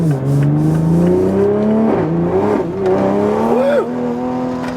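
Close, loud engine of a 2020 Toyota GR Supra accelerating through the gears, pitch climbing steadily, with a brief chirp of tires breaking loose in third gear.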